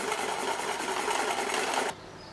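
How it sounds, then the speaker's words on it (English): Whisking coconut sugar and honey together until fluffy, giving a steady, close whirring buzz of an electric mixer that runs without a break and then cuts out suddenly near the end. "Add 30 grams of honey and whisk it in until light and fluffy."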